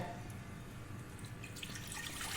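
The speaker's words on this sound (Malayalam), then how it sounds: "ഇത് കഴുകി വെച്ചതായത് കുറച്ച് വെള്ളം ഒഴിക്കട്ടെ." Water is poured over lentils to rinse them, a continuous splashing, running stream heard close and alone for a couple of seconds.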